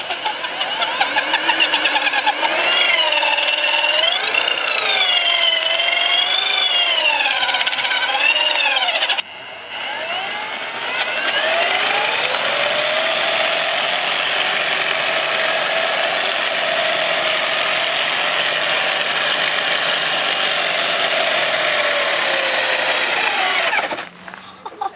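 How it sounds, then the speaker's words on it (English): Electric longboard doing a burnout: a loud, sustained whining motor and wheel spin with rising and falling pitch, a brief dip partway through, then a steady high whine that cuts off at the end. "Can you make a burnout on the longboard? Yes, you can."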